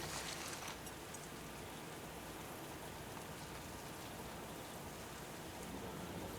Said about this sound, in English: right now in real life it's raining outside my window